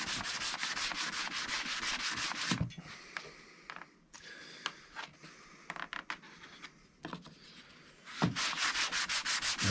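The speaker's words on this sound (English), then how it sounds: "I just hand sand them after we put some water on there, raise the grain. I take some 220 and I go with the grain" Wooden coasters are hand sanded with 220-grit sandpaper, making steady, close rasping strokes that run continuously at first, then break into shorter scrubbing passes, then return to full continuous rubbing.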